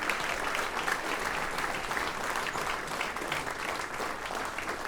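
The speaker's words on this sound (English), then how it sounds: "how about a big round of applause for our moderator here" Audience applause at a live jazz talk event, a steady dense clapping from a crowd that holds evenly throughout without talk.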